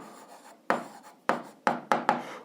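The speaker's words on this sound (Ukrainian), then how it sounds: "А зараз записуємо відповідь, пишемо відповідь" Pen or chalk strokes writing out the answer to an eighth-grade algebra exercise, a quiet scratch followed by four sharp, close taps and scrapes in an uneven rhythm, with no talking.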